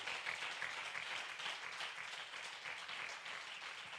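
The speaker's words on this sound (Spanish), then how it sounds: "Dele un aplauso al Señor y a su palabra." A church congregation applauds during a sermon, with a continuous, even wash of clapping that sounds distant and fairly faint throughout.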